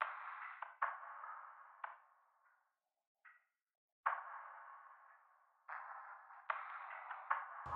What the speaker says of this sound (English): the last element I added to the sample is this percussion loop from Only One